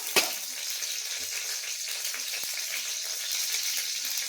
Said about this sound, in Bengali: এবারে কড়ার মধ্যে 5 ফোড়ন দিয়ে দেবো